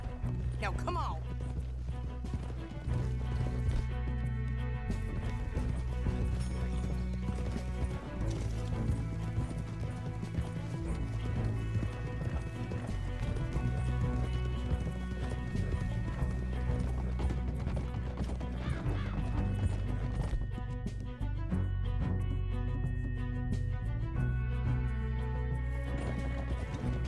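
Horses gallop with rapid, continuous clip-clopping hooves through a Red Dead Redemption scene. The hoofbeats run for the whole stretch beneath a swelling musical score, and characters speak over them.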